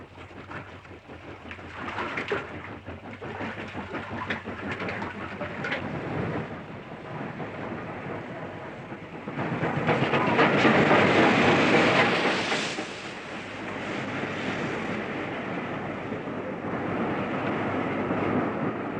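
A Black 5 steam locomotive working a train on the single-track West Highland Railway from Fort William, a loud continuous rumbling roar with a swelling surge of noise midway, no talk.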